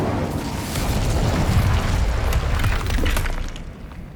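Incendio fire spell going off in Hogwarts Legacy, a dense, loud burst of booming, crackling blast noise that rolls on for several seconds and then fades.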